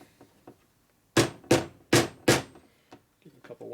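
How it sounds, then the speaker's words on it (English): A hammer taps a camshaft into a rebuilt 1946 Harley knucklehead 84ci stroker engine with four sharp, evenly spaced metallic whacks, loud and close. Quieter clinks of handling come before and after them. "so I'll just take the hammer, hold the cam perfectly straight"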